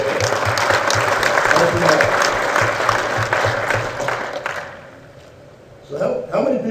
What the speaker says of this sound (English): you give him a round of applause right from the get-go.